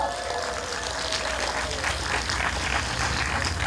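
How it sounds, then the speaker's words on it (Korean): An audience at a citizens' cultural festival in Changwon applauds after a vocal duet medley and solo song, a dense, continuous patter of clapping at moderate loudness. "세 분께 다시 한번 박수 부탁드립니다."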